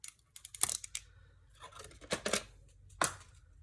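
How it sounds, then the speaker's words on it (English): Sharp crackling rips and peels of heat-resistant tape pulled with tweezers off a hot sublimation mug, several short bursts in quick succession close up, nobody talking. "So this is very hot, so we're using tweezers to remove the tape."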